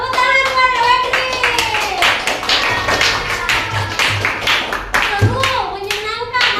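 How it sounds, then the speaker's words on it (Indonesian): A group claps and taps hands in a quick, uneven burst at a children's gathering, fairly close and loud, with kids' voices chattering and calling out over the applause. "tepuk tangan buat Wedri."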